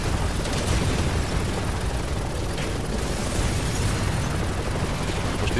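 Continuous heavy blasts and rumbling booms of rocket explosions in the video game Resident Evil 6 fill the whole stretch, loud and dense, with no pause between them.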